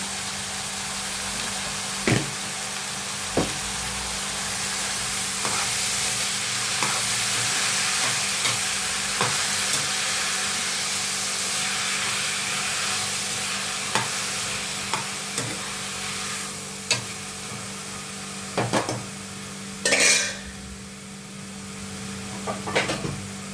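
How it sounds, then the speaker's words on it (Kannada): Mixed vegetables with tomato and salt fry in a pan for palya, under a continuous sizzle broken by sharp spoon knocks against the pan every few seconds. "ಅದು ತರಕಾರಿ ಸ್ವಲ್ಪ ಫ್ರೈ ಆಗಿದೆ ನೋಡಿ."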